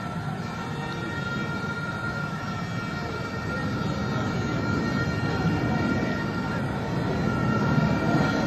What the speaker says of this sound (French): Voilà nos avions.